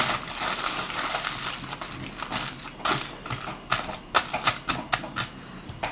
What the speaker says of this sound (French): je vais plier là la feuille de papier d'alu